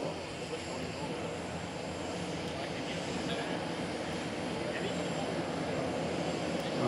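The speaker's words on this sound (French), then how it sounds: "Coming back in the Falcon 8X." A Dassault Falcon 8X business jet flying at the Paris Air Show at Le Bourget, a steady, fairly distant engine roar that holds evenly throughout.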